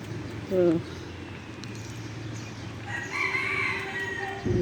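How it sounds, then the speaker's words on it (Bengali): A rooster crows at a distance during an early-morning walk, its call rising and falling over steady background hum and faint ambient noise. "মোরগ ডাকছে"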